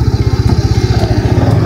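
A Yamaha R15 V3 motorcycle engine runs close by with a steady, rapid low thumping pulse, loud and continuous with no voices over it.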